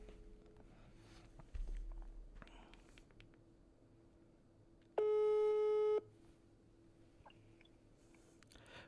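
A telephone gives a single electronic ring tone lasting about one second for an incoming late-night call, loud and close, amid faint rustling and room noise with no clear talk.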